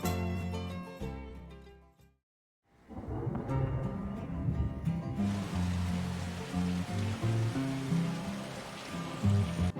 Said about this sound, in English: As a rainstorm hits Brisbane